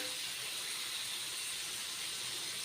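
Chicken pieces frying in a pan, a constant bright hissing sizzle that stays even and close throughout, no voices.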